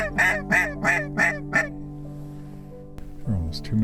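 Ducks and geese call in a rapid series of five loud honks, followed by a pause and softer honking near the end, with no talk.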